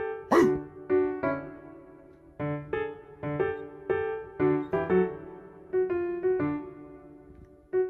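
A dog barks in a rapid series of short, sharp woofs close by, the barks coming in irregular bursts with brief gaps between them.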